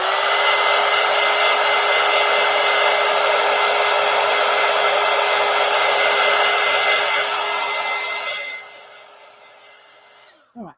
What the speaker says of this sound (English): but I want to dry the paint